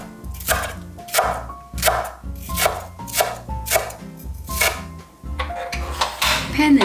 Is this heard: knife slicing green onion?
yes